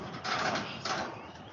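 Large loppers cut copper tubing off air-conditioning coils, giving two close, squeaky metallic crunches, each a strained grinding bite, the second shorter, with no talk.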